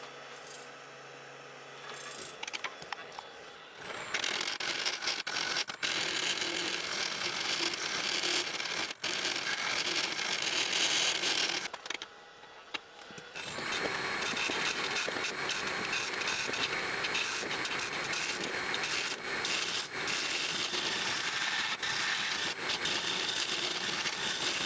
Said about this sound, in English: I start hollowing with a straight cutter to clear out the center.